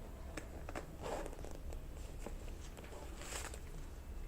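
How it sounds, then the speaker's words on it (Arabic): Zipper on a single-zip handbag being opened, a faint run of quick rasping clicks over soft background noise, close by and without speech. "سوستة واحدة"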